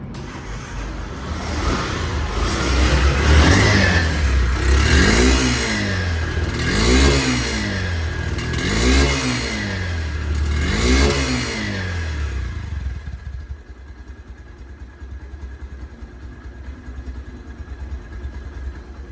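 A second-hand 2024 motorcycle in showroom condition with about 2,100 km on it, its engine revved up and down several times in a steady rhythm, then settling to a quieter idle.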